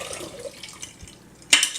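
Water is poured into a cooking pot while making dill pickles at home, a soft trickle and drip followed by a brief louder splash near the end.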